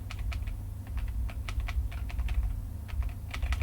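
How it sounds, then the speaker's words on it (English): Bracket keys on a computer keyboard tapped in quick, irregular clicks, close and crisp over a low steady hum, with no talking. "I'm using the bracket keys"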